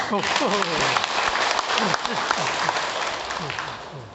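An audience at a Buddhist teaching session claps steadily for about four seconds, a dense sustained applause. A voice speaks over the clapping with rising and falling tones.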